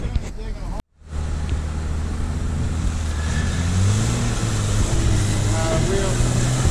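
Jeep tires spin and slip on rock on an off-road trail in West Virginia, with a steady roaring engine and wheel whine building after a brief cut, loud and close.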